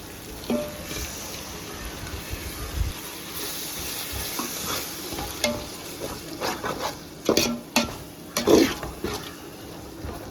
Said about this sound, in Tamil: தயிர் ஊற்றி நல்லா வதக்கியாச்சு